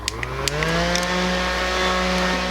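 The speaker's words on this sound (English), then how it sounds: "Dry it with a fan." A fan dries makeup on a face, running with a steady whirring motor hum that holds a constant pitch, with a few faint clicks near the start.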